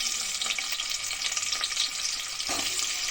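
Onions fry in hot oil with whole garam masala spices for a biryani, giving a steady, close sizzle and crackle with occasional stirring scrapes and no talking.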